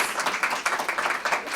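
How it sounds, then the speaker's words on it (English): A crowd at a letter-of-intent signing day event gives a brief round of applause, with a lively patter of many hands clapping at moderate volume. "let's give them a nice round of applause"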